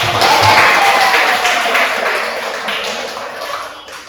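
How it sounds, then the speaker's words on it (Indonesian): A crowd applauding, a steady wash of clapping that starts loud and gradually tapers off over a few seconds, with no talking over it. "ada tepuk tangan dulu"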